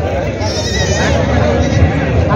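Goats bleating repeatedly at a livestock market, several animals calling in wavering cries over a dense bed of crowd murmur and nearby chatter.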